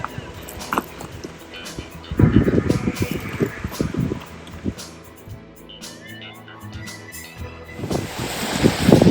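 A mountain waterfall and river in the Slovak mountains roar steadily outdoors, with gusts of wind buffeting the microphone and loud bursts of splashing.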